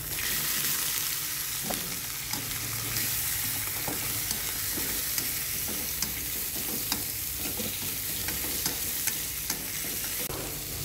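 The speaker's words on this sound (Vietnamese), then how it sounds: "cứ bỏ tôm vô xào" Shrimp stir-fried in a pan with golden-fried garlic and shallots, a steady loud sizzle with scraping stirs and small clicks of the utensil throughout, no voices.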